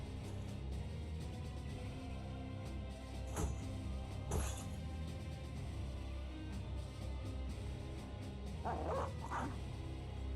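Dogs in the Battle Brothers video game bark and yip in a few short bursts, set against a steady low battle-scene ambience with no talking.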